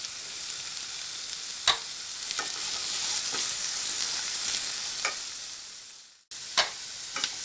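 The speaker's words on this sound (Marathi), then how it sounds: "हे सर्व भाज्या घालून मी चांगलं परतून घेणार आहे. थोडी हाय फ्लेमवरतीच परतून घ्यायचं आहे." Mixed vegetables including capsicum and carrot stir-fried in oil over a high flame for hakka noodles, a steady loud sizzle broken by a few sharp spatula scrapes and one brief pause.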